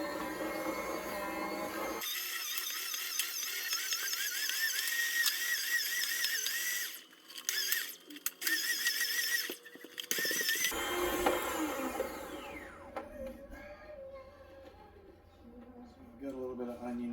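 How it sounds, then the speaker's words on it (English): A small Harbor Freight electric slicer whirs through an onion with a high motor whine that starts, cuts out and returns in bursts, while someone talks over it at times. "I just have a little Harbor Freight slicer here"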